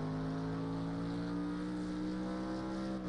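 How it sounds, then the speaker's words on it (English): Racing GT3 car engine heard from the on-board view at the Nürburgring in Project CARS 2, a steady loud drone with stable harmonic tones that holds level throughout, no voices over it. "And you can also hear the engine."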